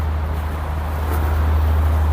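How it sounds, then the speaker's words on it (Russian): A diesel generator engine runs with a steady, loud low drone outdoors on a city street, constant and unbroken with light wind noise. "Звук дизельного двигателя, дизельного генератора."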